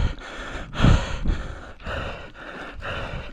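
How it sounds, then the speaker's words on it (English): Heavy, laboured breathing close to a GoPro Max camera mic while cycling, with repeated deep gasping inhales and exhales in a steady rhythm right at the microphone. "you hear all my heavy breathing, and currently there's a lot of that because I'm very unfit"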